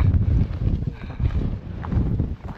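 Strong, cold winter wind buffets the microphone at frozen Abraham Lake in uneven, rumbling gusts that rise and fall throughout, with no one speaking.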